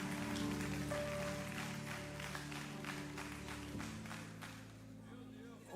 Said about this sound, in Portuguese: Aplaude pro seu marido pegar a indireta.